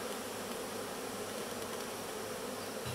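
Honey bees swarm and buzz steadily at an open beehive during an inspection, a dense, continuous drone close by with no voices.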